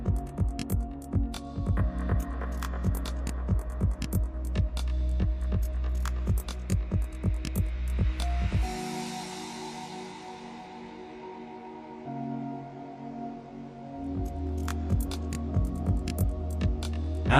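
Alpha Pro Kukai key machine decoding a SAG tubular key clamped in its jaw: a steady motor hum with rapid regular ticking, a pause of quieter whine, then the ticking hum resumes.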